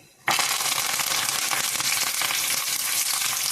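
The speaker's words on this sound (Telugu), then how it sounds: "తాలింపు అయితే ఎగిపోయిందండి ఆపేస్తున్నాను" Tempering for chutney crackles and sizzles in hot oil in a pan, a loud dense hiss that bursts in suddenly after a brief quiet moment and keeps spitting steadily throughout.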